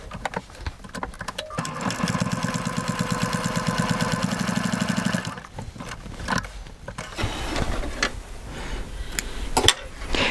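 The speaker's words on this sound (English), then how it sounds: "I'm going to continue sewing right along this crease till I get to that corner." A Baby Lock Accomplish sewing machine stitches steadily along a fabric crease, a fast even mechanical whir with rapid ticking for several seconds, then slowing and stopping before short bursts resume.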